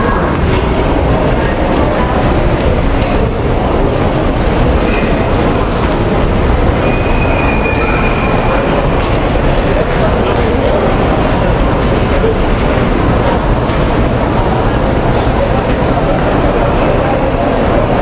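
A train rumbles steadily and loudly past a busy station in a Brazilian back-street neighborhood, with a continuous roar, faint rail squeals and crowd noise throughout.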